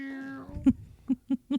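Cat meowing several times in short bursts, a drawn-out meow followed by three quick clipped meows, close and fairly quiet indoors.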